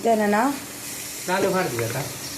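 Dal frying in a pan with chili powder gives a soft, steady sizzle that sits under a voice talking over it throughout.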